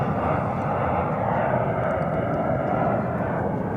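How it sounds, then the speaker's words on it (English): A Cargolux Boeing 747 cargo jet roars loudly and close at DFW Airport, a dense continuous engine rumble that stays steady throughout. "Cargo Lux, one of my favorite 747 liveries"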